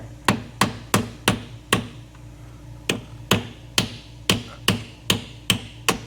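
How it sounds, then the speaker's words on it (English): Small wrench tapping the end of a stuck car part with stripped threads, a dozen sharp metallic knocks in an uneven rhythm, close and clear with no talking. "I'll come in here with a smaller wrench and tap it on the end"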